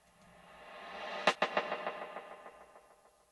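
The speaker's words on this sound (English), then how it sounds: "so that's reverse reverb in a nutshell" Reverse reverb: a swelling, rising wash of reverb builds into a sharp hit, followed by a string of fading, echoing repeats that trail off.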